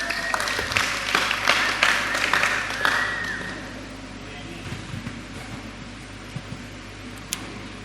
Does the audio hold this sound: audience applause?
yes